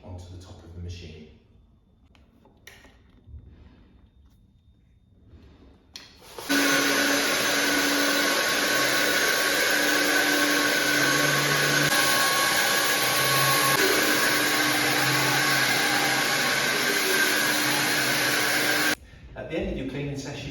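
An I-Mop XL floor scrubber with its brush deck lowered starts up after a quiet stretch and then runs with a loud, steady whirring hum for about twelve seconds before cutting off.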